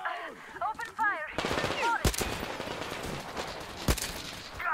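Gunfire in the video game Metro Exodus: sharp broadband bursts at about two and four seconds over a dense, continuous din of shots and game noise, with character voices earlier.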